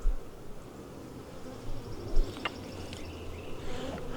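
Honey bees buzz around an open hive being worked in a farm yard, a faint, steady hum with brief louder passes near the ear and thin higher tones over a low background.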